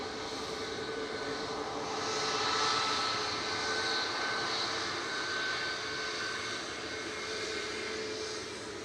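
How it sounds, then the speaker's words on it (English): A Boeing 737 MAX 8 jet leaves Manchester for Paphos, a distant, fairly quiet engine roar that swells a little midway and then holds steady with a hissy edge. "Heading off to Paphos, this is G-Ton B. With flight 2132, it's a max 8."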